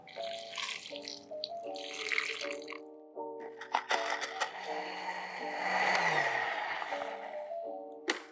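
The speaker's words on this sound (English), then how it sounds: "And then we add water." Water splashes and pours into a metal pot with rising hollow tones, amid clinking and a steady musical tone in the background.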